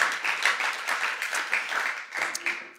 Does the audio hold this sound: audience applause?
yes